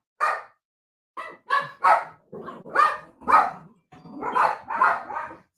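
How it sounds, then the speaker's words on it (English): Dogs bark furiously at someone at the door indoors, loud, close bursts of barking in quick repeated volleys with only brief pauses, no talking over them. "as y'all hear, my dogs was going the hell off."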